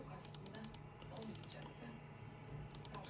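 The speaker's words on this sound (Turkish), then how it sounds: "Şimdi sağ kliğimize basıyoruz." A computer mouse's right button is pressed repeatedly, giving a few quick clusters of faint, crisp clicks over a quiet, low room hum.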